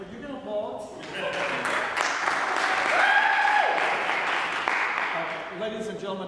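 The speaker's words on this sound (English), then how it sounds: "Well, you're going to applaud." A concert audience at a recital breaks into sustained, dense applause that swells and holds, with voices mixed in under the clapping.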